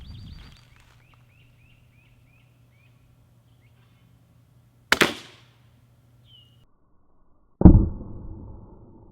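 Suppressed .22LR rifle fires, followed by a sharp impact crack on a car windshield, then a second loud shot and hit after a pause, outdoors, with faint birdsong and a low background hum.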